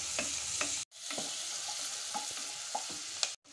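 Chopped regular onion sizzling in a pan with sautéed garlic and butter gives a steady, close frying hiss, broken twice by short gaps and dotted with small stirring clicks.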